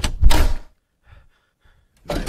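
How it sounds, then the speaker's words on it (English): A door in a horror video game bangs loudly at the start, then faint creaks and shuffles in near silence, followed by another loud thud or slam at the end; no talk. "there go the door, there go the door"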